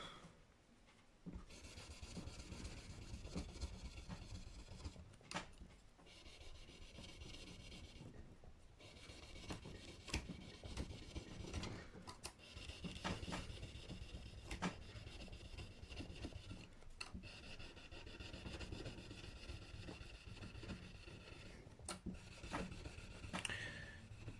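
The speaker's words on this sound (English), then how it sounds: "next time just polish up the frets" Frets on a parts Telecaster being polished, a faint, close, continuous rasping rub in repeated strokes with short pauses, no talk.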